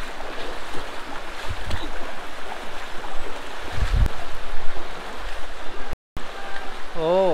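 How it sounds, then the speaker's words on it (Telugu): Cold, clear stream water flows out of a cave, a steady broadband rush that fills the whole clip, with faint voices mixed in and a brief dropout near the end. "ఆ కేవ్ లో నుండి వాటర్ వస్తున్నాయి"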